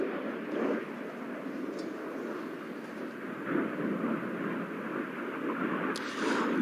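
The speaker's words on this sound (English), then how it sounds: "As the jets come round for their final nose-to-nose pass" A broad, distant roar of RAF Red Arrows jets passing at the RAF Cosford Airshow, a sustained rumbling wash that swells gently and never fades out.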